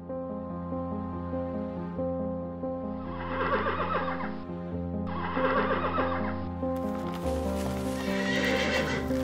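Hooves clip-clop steadily in an animated folk-tale cartoon while a horse gives two loud neighs, then a third whinny near the end, all over a continuous background music track.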